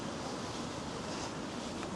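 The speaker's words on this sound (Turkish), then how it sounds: "Tabi biraz rüzgar da var." Steady, faint wind buffets the microphone in a continuous low rush with no other distinct sounds, recorded outdoors in Oslo or Malmö.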